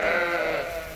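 Sheep bleating at feeding time on a farm, a short, close, loud bleat with a wavering tone that trails off.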